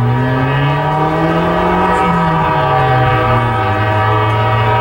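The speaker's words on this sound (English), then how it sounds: "there's a train coming towards you" A Norfolk Southern intermodal freight train rumbles steadily close by in Austell, Georgia, with a loud, sustained horn-like drone whose pitch slowly shifts, continuous and unbroken throughout.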